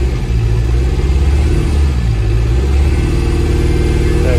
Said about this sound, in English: So what I have to do is just rev it a little bit, just to get the revs up.